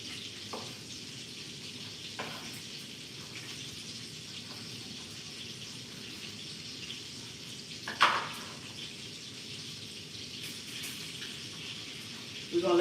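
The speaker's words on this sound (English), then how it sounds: "We're going to let that fry down some" Collard and mustard greens fry down in a pot, giving a soft continuous sizzle and hiss with occasional clinks and a brief louder knock from the pot or utensil.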